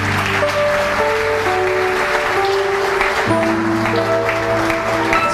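A church congregation claps in a dense, steady wash of applause, with sustained music tones running underneath throughout.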